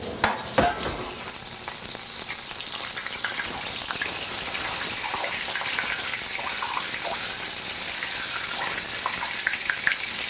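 Swordfish cubes deep frying in hot oil, a dense, steady crackling sizzle that fills the whole stretch at close range, with a brief sharp burst near the start as the pieces go in.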